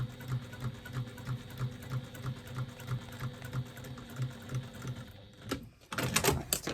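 A sewing machine stitching fabric at a steady quick rhythm of close, even mechanical pulses for about five seconds, then stopping, followed by a short burst of louder handling clatter at the end.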